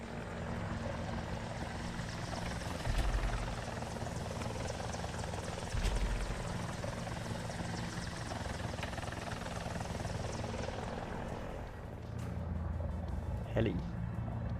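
Helicopter in the War Thunder air and ground simulator, a continuous rotor and engine drone heard throughout at moderate level, with occasional thumps and voices talking over it.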